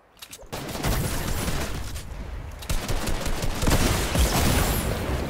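Rapid bursts of gunfire from the video game Fortnite, dense and loud with sharp cracks over a steady rumble, pausing briefly before the shooting picks up again.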